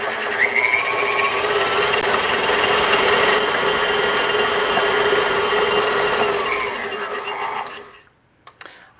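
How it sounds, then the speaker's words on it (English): An electric mixer beats a sugar mixture for chocolate tart cookie dough at medium-high speed, a loud, steady close whir with a constant motor hum that runs unbroken for about eight seconds, then cuts off into a few light clicks. "now I'm going to turn the mixer on to medium to high speed and let it go for about a minute"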